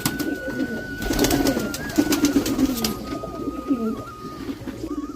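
Domestic pigeons, a male and a female from a home loft, coo close by in repeated low, throaty phrases over a faint background hum.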